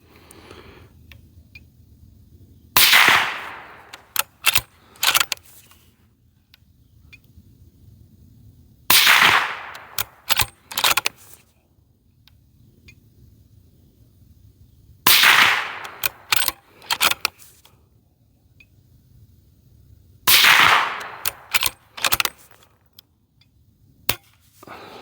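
A 300 Blackout Ruger American SBR bolt-action rifle fires four single shots, each a sharp supersonic crack about six seconds apart, followed by quick metallic clicks of the bolt being cycled, with quiet outdoor background between.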